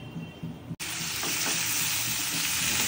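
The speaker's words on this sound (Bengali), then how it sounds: "এই মাছগুলো ভেজে রেখে দিলাম।" Fish frying in a pan, a loud dense sizzle that starts abruptly after a brief quieter moment and then holds steady and close.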